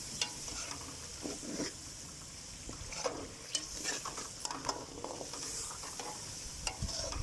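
Chicken in a pot is stirred with a yogurt masala, giving a low sizzle broken by repeated wet scrapes and clinks of the spoon against the pot, close and with no voices.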